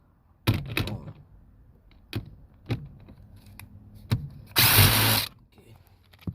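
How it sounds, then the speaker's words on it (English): A power drill works on the seat bolts of a Nissan Maxima, giving several short whirring bursts and one longer loud burst near the end, close by, with clicks and handling noises between. "Now, use a drill."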